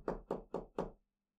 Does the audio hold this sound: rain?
no